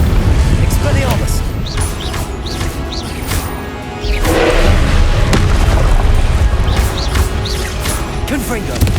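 Confringo fire-spell blasts cast during a Hogwarts Legacy battle, loud booming bursts that repeat one after another amid crashing combat noise, with a voice calling out spells over them.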